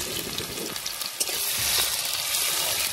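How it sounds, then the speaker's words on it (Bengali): Chopped onions and tomatoes fry in hot oil for a village-style potato curry, a loud, steady crackling sizzle filling the whole clip with a brief sharp pop near the middle and no voices. "টমেটো পেঁয়াজগুলো কাটা কাটা হয়ে গেছে সব, তেলের মধ্যে দিয়ে দিলাম।"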